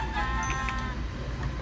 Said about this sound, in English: Oh, hey sheep, let's kill him.